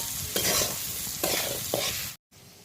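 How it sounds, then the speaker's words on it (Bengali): Potatoes with salt and spices stirred and fried in a pan for chow mein, a close steady sizzle broken by several scraping stir strokes, then a brief cut to silence before the frying resumes. "নুন আর মশলাটা দিয়ে নাড়াচাড়া করে নিচ্ছি ততক্ষণ ভাজবো যতক্ষণ আলুটা সেদ্ধ হচ্ছে"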